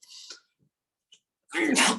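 A single sharp sneeze bursts out near the end, preceded by a brief soft intake and faint mouth sounds.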